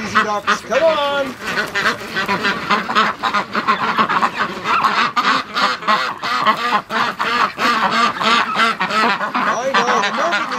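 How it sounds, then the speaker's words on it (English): A group of ducks quacks loudly and nonstop, close by, with a person talking over the noisy chorus. "my crazy ducks, come on"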